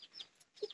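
A few short, soft clucks from a chicken, two brief bursts separated by a quiet pause, fairly faint and close.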